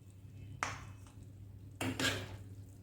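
Egg halwa being spooned from a pan into a serving dish, two soft metallic scrapes and clinks of a spoon against cookware, close and quiet with no talk.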